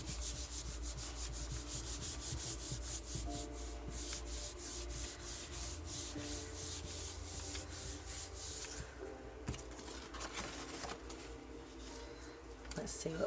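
Paper rubbed by hand over an inked Gelli printing plate, a steady soft scuffing and brushing that runs continuously with brief pauses, close and moderately quiet.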